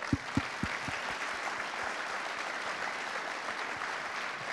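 A conference keynote audience at Devoxx France 2022 applauds the Niptech podcast team. The clapping starts with a few sharp, loud claps, then settles into a sustained, even wash of applause.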